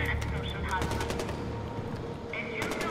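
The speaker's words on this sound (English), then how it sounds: "They're shooting at other things, not me." Enemy gunfire in the video game Far Cry 4, rapid bursts of shots crackling steadily throughout, moderately distant and under other game sounds, with faint voices mixed in.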